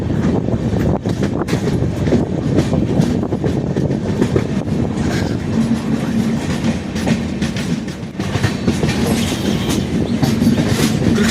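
A passenger train rumbles steadily along the rails near Krishna Junction station, India, with continuous loud clatter and wheel noise, a faint hum running through it, no voices.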